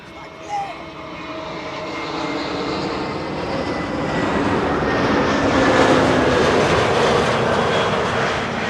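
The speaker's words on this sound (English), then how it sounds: "This is EasyJet flight 27838 arriving from Scotland, to be precise, Edinburgh." An EasyJet passenger jet arriving from Edinburgh at Schiphol's Kaagbaan runway roars steadily as it approaches, a broad engine rumble swelling toward the middle and holding loud, with a brief faint voice early on.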